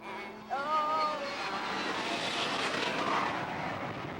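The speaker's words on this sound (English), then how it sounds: "we know when the planes come and go" An airplane flies overhead near houses in Davao City, its broad, steady engine roar swelling and holding loud throughout, with a brief faint tonal sound near the start.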